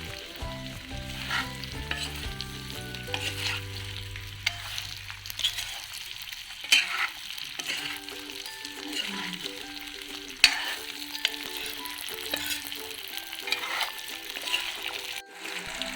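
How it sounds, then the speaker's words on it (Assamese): Mango pieces for pickle fry in a little hot oil, with a steady crackling sizzle and the scrape and clatter of a stirring spoon throughout, fairly close and without talk. "সেইকাৰণে অলপ গৰম তেলত মই এনেদৰে ভাজি লৈছোঁ"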